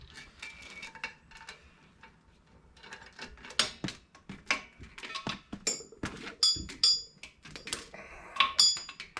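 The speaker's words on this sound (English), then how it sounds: "So now we can hook the gas connections up to the back of the welder." Metal gas line fittings being connected to the back of a Miller Multimatic 220 AC/DC welder, irregular close clinks, taps and metallic ticks that grow busier and louder toward the end.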